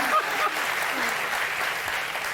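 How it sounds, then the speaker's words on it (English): Studio audience applause at a late-night talk show roast, a steady dense wash of clapping sustained throughout with no voices over it. "that was the worst round of applause in the history of show business"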